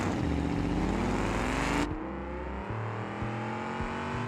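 A racing game car engine revs high and steadily, then cuts back sharply partway through and settles into a lower droning whine, close and loud with no talk over it.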